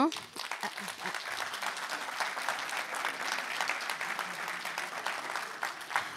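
Audience applauding at a hackathon award ceremony, brisk continuous clapping at moderate distance, with a voice speaking over it at the start.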